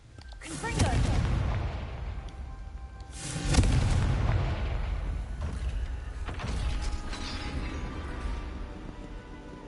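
Confringo fire spell in Hogwarts Legacy, two heavy booming blasts with a long rumbling tail after each, loud and close, followed by lingering low rumble.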